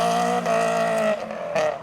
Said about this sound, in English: the first car of the Japanese meet is a Ferrari. A Ferrari 456